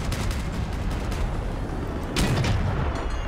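A Mandrake artillery build fires in the vehicle combat game Crossout, a dense barrage of booming blasts over constant rumbling noise, with a louder burst near the end and no voice over it.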